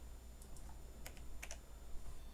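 Keystrokes on a computer keyboard while typing a server update command, a few quick scattered clicks in small bursts, close and fairly quiet over a low steady hum.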